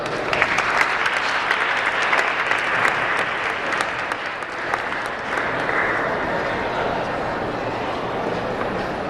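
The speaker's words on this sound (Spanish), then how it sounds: "También la recibimos con un fuerte aplauso." Audience at a Holocaust remembrance event at the Centro Social Israelita gives a strong, sustained round of clapping, many hands at once, loud and close, fading slightly toward the end.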